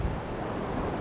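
Wind blows onshore from the beach at the sea, a steady loud broadband rush with low buffeting on the microphone and surf mixed in, no voices.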